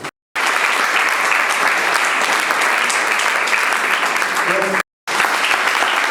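Applause at a civil wedding ceremony: sustained, loud clapping from the guests fills the room, broken by two brief silent gaps, with a faint voice under it near the end.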